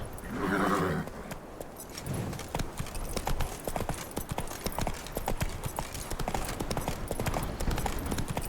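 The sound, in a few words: horse hooves galloping in The Witcher 3 video game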